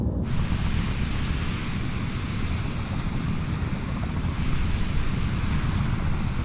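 A fixed-wing aircraft with retractable gear flies in Microsoft Flight Simulator 2020, at about 123 knots over a city, its engine drone steady and loud throughout with a broad rushing roar and no talk.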